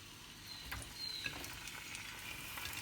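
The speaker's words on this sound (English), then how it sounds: "start with the frying the tomatoes on the small frying pan." A small pan sizzles steadily with a soft, crackling fry, a faint clink of a utensil now and then, no voices.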